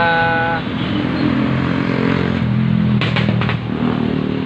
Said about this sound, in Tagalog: daming dumada na motor nalalakas lalakas ng mga tambutso nila